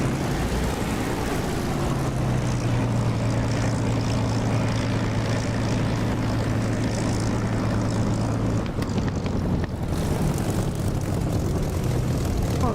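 A Spitfire propeller plane takes off in the DCS flight simulator with a loud, steady engine drone that holds throughout, shifting in pitch partway through and then continuing.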